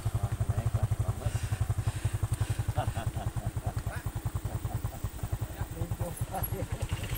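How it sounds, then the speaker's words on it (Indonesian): A motorcycle engine chugs and strains in a fast, steady pulsing rhythm while climbing the steep, rough Ciangkrong incline in Pamulihan, Garut. The engine stays close and loud for the whole stretch. "Motornya nggak naik karena kondisi jalanannya."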